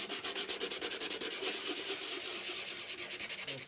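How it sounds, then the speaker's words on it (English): Rapid, rhythmic scratchy strokes of hand sanding a painting, steady back-and-forth rubbing close up with no talking. "all this sanding gets a little tiresome"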